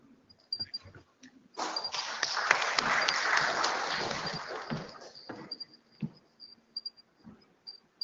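Audience at a conference bursting into applause, a dense burst of many hands clapping that swells for a few seconds and then thins into scattered claps and quiet room noise.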